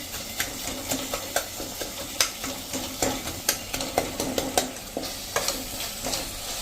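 Powdered sugar being stirred into an all-in-one chutney in a pan over a slow flame: steady rhythmic scraping strokes of a spoon against the pan over a soft constant sizzle, close and moderately loud, no talking.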